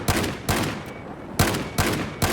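Rapid bursts of frag rounds firing in a 12-versus-12 online shooter match, several loud, sharp volleys separated by brief gaps, with no voices over them.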